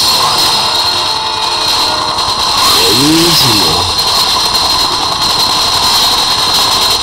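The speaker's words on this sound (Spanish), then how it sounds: "vamos en la moto," A motorbike engine revs and accelerates during a first-person Call of Duty Black Ops campaign mission, a rising engine tone swelling midway under steady loud background noise while someone talks over it.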